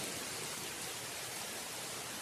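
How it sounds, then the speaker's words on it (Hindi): Heavy rain pours down as a steady, even, dense hiss with no breaks, fairly faint overall and with no voices. "खूब तेज बारिश हो रहा है"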